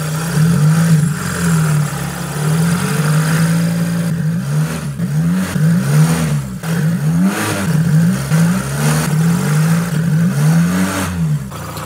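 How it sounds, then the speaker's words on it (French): A car engine, checked for a leaking rocker cover gasket, takes repeated short throttle blips, each rev rising and falling in pitch over a steady idle, close and loud, with no talking. "Je vais mettre des petits coups de gaz"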